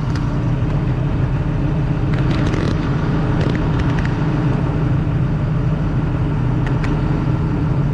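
A bulldozer's engine runs steadily on a job site, a loud continuous low rumble with a constant drone and occasional faint clanks over the top, no talk.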